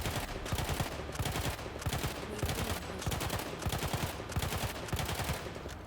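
Rapid gunfire from Battlefield 1, fired while aiming down sights at poles: dense, steady bursts of close, loud shots repeating in a fast rhythm with no talking.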